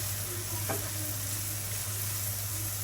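Vegetables with a little capsicum sizzling in a pan for noodles, a steady close frying hiss with a brief scrape of stirring, no voices.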